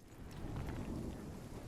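Thunder rumbling with steady rain from a lightning storm in the video game RuneScape: Dragonwilds, a continuous low roar with rain hiss throughout, fairly loud and with no voices over it.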